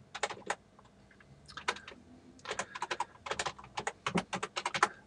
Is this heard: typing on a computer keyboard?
yes